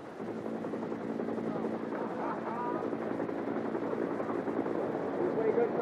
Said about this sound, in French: Laurent, l'hélico arrive